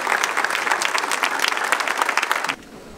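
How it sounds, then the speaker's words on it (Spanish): Applause from an audience at a national assembly of Vincentian volunteer women in Querétaro, Mexico, dense close clapping for about two and a half seconds that then cuts off abruptly. "Les brindamos un fuerte aplauso a todas."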